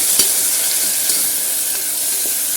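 Chopped tomatoes and green chillies sauté with onion in oil for chana kurma, giving a short, loud, even hiss of frying close by, with faint stirring ticks.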